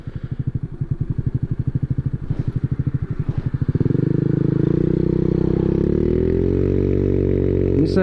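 A Honda Navi's small engine putters with a rapid pulsing exhaust, then smooths and rises in pitch as it revs, sounding like a little dirt bike, loud and close throughout.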